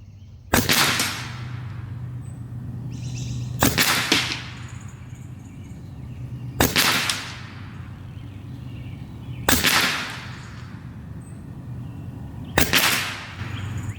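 Five sharp, loud shots from a Skout semi-auto airgun fired at an uneven pace roughly every three seconds, each a crisp crack with a short ringing tail, heard close with no voices.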